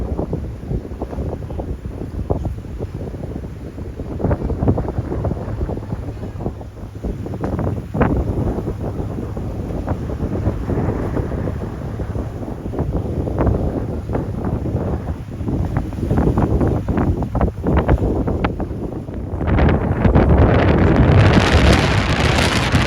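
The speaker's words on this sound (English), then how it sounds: "winds blowing from about 25 to 35 knots" Strong 25 to 35 knot wind batters a sailboat close-hauled in big seas, a loud continuous roaring rush with gusty swells and water wash building toward the end.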